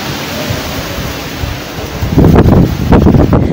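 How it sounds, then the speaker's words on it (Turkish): Sudden strong evening wind in a Turkish city, a broad rushing roar that builds abruptly halfway through into loud, buffeting gusts hitting the microphone, with no voices. "Akşam saatlerinde aniden bastıran rüzgar hava durumunu bir anda değiştirdi."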